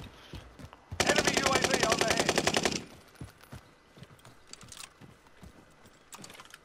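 Rapid automatic gunfire from Call of Duty: Warzone, a loud sustained burst lasting about two seconds, followed by scattered softer shots and game sounds.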